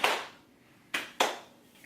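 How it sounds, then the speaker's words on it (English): Three slow, deliberate hand claps close to the microphone during a casual podcast chat: one clap, a long pause, then two more in quick succession, each dying away quickly. "Slow clap."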